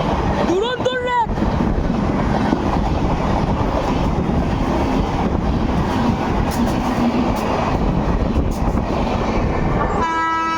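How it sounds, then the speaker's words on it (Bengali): Sealdah–Saharsa Hate Bazare Express, train 13163, rolling past with a steady, loud rumble of wheels and carriages throughout, a brief horn note near the start and another tonal horn at the end. "13163 শিয়ালদা শহর হাটে বাজার এক্সপ্রেস।"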